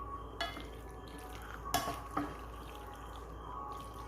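Pasta being mixed in a pan with cheese, a quiet background with a few distinct clinks and scrapes of a utensil against the pan, soft and close.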